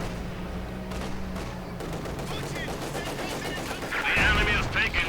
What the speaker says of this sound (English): Heavy mortar fire going in here.